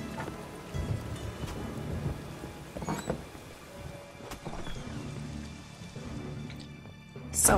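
Rain falls steadily in The Witcher 3 with low rumbles of thunder rolling beneath it, a brief louder burst near the end, and faint talk under the storm.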